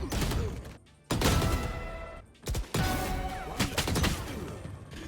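Rapid gunfire bursts in a Valorant deathmatch, loud, close volleys of shots broken by brief quiet gaps, with thuds mixed in.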